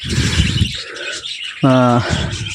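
A pet budgerigar gives a loud, close burst of rapid chirping, a quick repeated trill lasting under half a second, which follows a stretch of softer chatter and cage noise.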